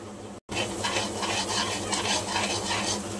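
Fried onions with turmeric are stirred in a hot pan, giving a steady sizzle and a soft scraping of the spoon. It is close and continuous after a brief gap at the start, with no talking.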